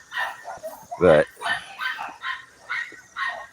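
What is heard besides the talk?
dogs barking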